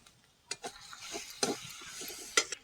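Ground spices, Kashmiri chilli powder, coriander powder, vegetable masala and ground dried chilli, frying in a pan with a little water, with scattered spatula scrapes and stirring clicks over a soft, low sizzle, close by.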